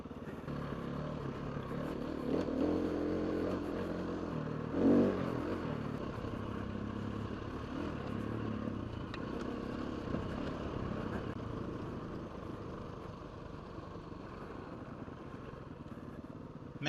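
An enduro motorcycle rides back down a mountain through trees, its engine droning steadily at moderate volume with small surges and occasional rattling clatter over the rough ground.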